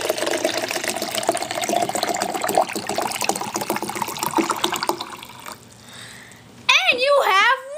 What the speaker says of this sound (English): now pour water into the dehydrated water